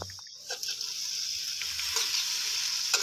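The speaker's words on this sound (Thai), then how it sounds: "ผัดไปเรื่อยๆนะครับ ด้วยไฟปานกลางนะครับ" Chinese sausage fried rice stir-fried in a pan over medium heat, sizzling steadily and close up with faint scraping stirs throughout, no talking.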